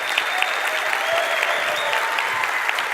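A keynote audience claps loudly and steadily throughout, a sustained wash of applause from a large crowd.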